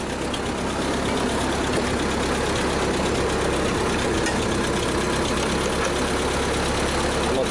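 A 1952 Ford 8N tractor engine runs close and loud with a constant, unbroken low drone. The pitch and level hold steady from start to end, with no voices.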